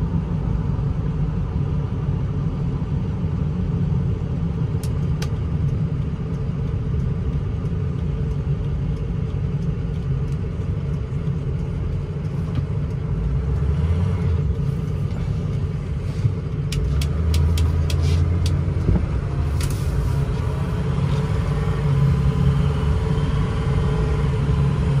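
A 2007 Ford F-250 Lariat with a 6.0L Powerstroke diesel runs in four-wheel drive across a parking lot, its low engine rumble steady and close throughout, with the drone swelling briefly midway.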